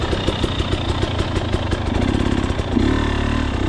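A dirt bike engine revs and throttles hard while the rider hops logs, a loud, close, buzzing mid-pitch drone with pulsing throttle surges that swell louder near the end.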